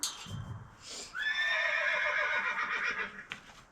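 A loud, drawn-out horse whinny with a quavering, wavering pitch, lasting a couple of seconds, nearby and preceded by a brief rustle.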